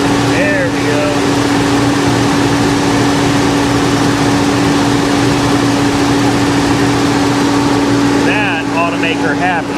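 1989 Nissan Hardbody Z24 engine idling loudly and steadily up close, a constant droning hum with a strong low tone throughout, while a voice speaks briefly near the start and end.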